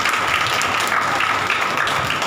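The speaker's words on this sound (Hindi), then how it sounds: "ताली बजा के" A church congregation claps together during a Hindi Bible study, a dense, even wash of clapping that fills the room without a break.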